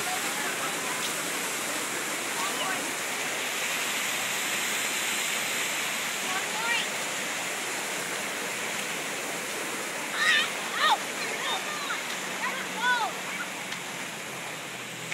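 Loud, steady rushing of water fills the whole clip, a dense roar like a strong flow nearby, with a few faint voices and higher chirps near the end.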